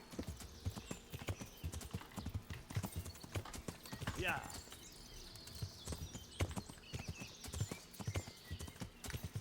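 Horse hooves clip-clop at a steady walking rhythm in a video game, with a short neigh partway through and a brief spoken word from a player over the trotting.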